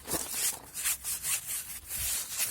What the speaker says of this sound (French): un petit coup d'APC, brosse pour les pneus, et vous voyez la couleur